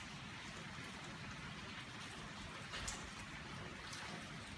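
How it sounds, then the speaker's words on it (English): Heavy rain pours down in a steady, dense hiss, continuous and unbroken throughout. "it's raining really hard."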